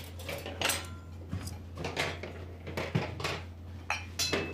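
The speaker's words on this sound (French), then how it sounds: "vous faites votre petite vaisselle avec vue sur Mars" Dishes being washed in a small kitchen aboard a train give a run of close clinks, knocks and scrapes of crockery and cutlery, spaced irregularly over a low steady hum.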